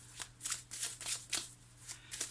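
Tarot cards shuffled by hand in quick repeated riffling bursts, close and crisp, about half a dozen swishes with no talking.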